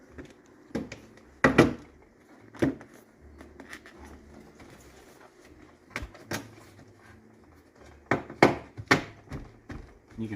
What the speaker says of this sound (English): Yep, those new door panel clips are biting good.